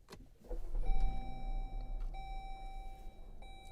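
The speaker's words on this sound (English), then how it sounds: "Again, we'll restart the car." A car engine cranks and settles into a low idle rumble, while a dashboard chime rings in steady high tones over it.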